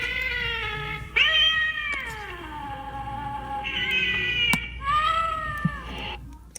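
Halloween animatronic toy cat from Target's seasonal decor, letting out a few long, drawn-out electronic meows, close and fairly loud, with pauses between the calls.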